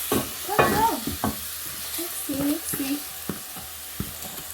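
Pilau ingredients being mixed in a pot, with steady sizzling and scraping, stirring strokes close by, and faint tonal murmurs in the background.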